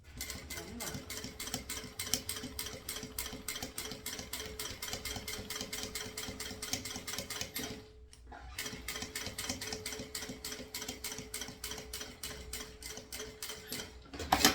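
A sewing machine runs a topstitch seam on the front of a round bag, with rapid even ticking stitches throughout, one brief pause near the end, and a voice talking faintly at moments.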